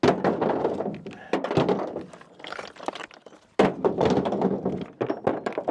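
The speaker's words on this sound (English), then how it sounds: "Just start chucking rocks." Rocks from an old mining site are tossed by hand onto a pile, giving a series of irregular close thunks and clatters with short pauses between throws.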